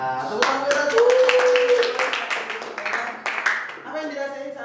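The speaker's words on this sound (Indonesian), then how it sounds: "Tepuk tangan buat aku." Hand clapping from a group of teacher trainees in a classroom session in Bali, a quick run of separate claps under a voice talking and a sustained sung or drawn-out vocal tone.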